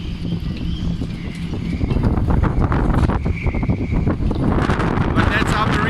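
Gale force wind in a marina at Monastir, Tunisia, buffeting the microphone with loud, roaring gusts that build partway through, while someone talks over the rushing noise.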